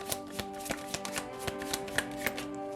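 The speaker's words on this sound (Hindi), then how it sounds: "तो चलिए शफल कर लेते हैं ऑप्शन 1 के लिए।" Tarot cards shuffled in quick, evenly spaced riffles and taps, close and moderately loud, over a steady background hum.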